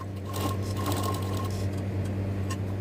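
A sewing machine runs continuously while stitching a round seam such as a neckline, a steady close-up hum with a rapid mechanical patter throughout.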